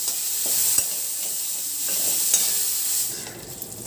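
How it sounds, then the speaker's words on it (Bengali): Gobindobhog rice being stir-fried in a pan, with a steady sizzle and repeated scraping strokes of a spatula, close and fairly loud. "এখন আমি চালটা ভালো করে ভেজে নেব।"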